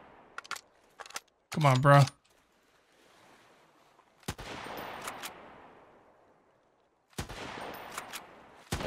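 Gunshots in Sunkenland ring out as sharp, isolated cracks, a few quick shots early and louder single blasts later, each trailing off into rolling echoes, with someone speaking briefly.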